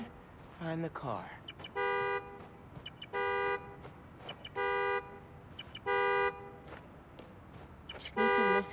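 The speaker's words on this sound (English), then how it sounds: "Find the horn, find the car." A car horn honking in the video game Marvel's Spider-Man: Miles Morales, repeated long blasts sounding at a regular rhythm, about every second and a half, with faint talk and background noise between them.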